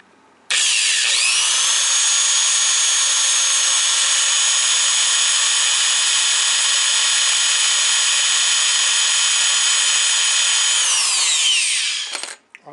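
A loud, steady high-pitched drill whine that starts abruptly, holds for about eleven seconds while boring into a steel plate, then winds down and stops.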